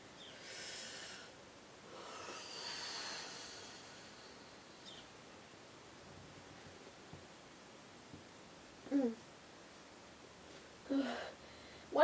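Slow, deep breaths during a breathing exercise, soft and airy, with a few audible sniffing inhales toward the end, faint and close in a quiet room.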